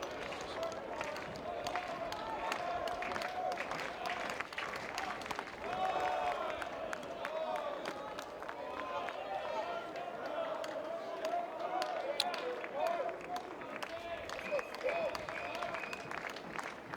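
Crowd noise and applause fill a night college baseball game between Ole Miss and Vanderbilt in 2023, a steady distant roar of clapping and cheering under continuous play-by-play commentary.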